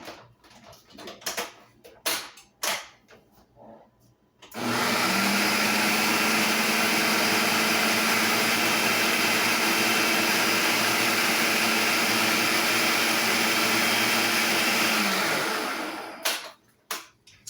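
A food processor whirs steadily for about ten seconds, blending a mackerel and garlic mixture, loud and continuous, with quieter kitchen clatter before it starts and after it stops.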